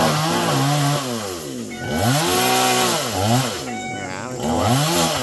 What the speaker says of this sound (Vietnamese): Cái máy cưa này là máy cưa G370 nha các bạn